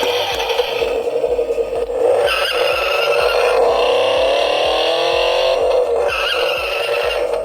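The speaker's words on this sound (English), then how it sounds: "Here's your driving sound one more time." Road Rippers toy Ford Mustang GT, a custom 2011 RC DUB Garage Control Freakz model, plays its electronic driving sound effect: a loud, continuous revving engine roar with scraping, rattling tones that rise and fall, alone without talk.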